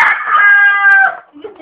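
A rooster crows once, a loud, close, drawn-out harmonic call lasting about a second that trails off into quieter clucking and faint background noise.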